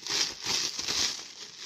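Crinkling of a small plastic packaging bag holding a 19 cm glass stirring rod from a soapmaking supply order, a continuous soft rustle up close with no talking.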